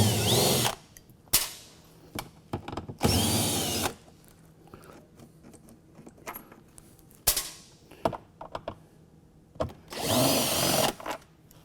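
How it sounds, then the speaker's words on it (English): A power tool removes bolts from the back panel of a Dri-Eaz LGR 2800i/3500i dehumidifier during servicing, giving several loud, close whirring bursts separated by pauses with small clicks and clanks, with no talking. "There are 4 bolts now on the back side that I'm going to remove."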